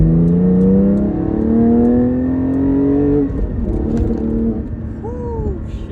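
A Porsche 718 Cayman GT4 engine accelerates hard, its rising whine climbing in pitch before a gear change, then pulling again, loud and close throughout.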